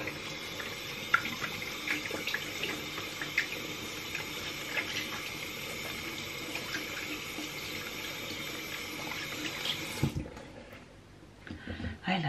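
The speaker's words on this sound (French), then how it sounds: "Et puis du coup je vais le rincer." Tap water running steadily into a sink while a skincare item is rinsed under it, a close, constant splashing stream for about ten seconds before the flow is cut off, followed by faint handling sounds.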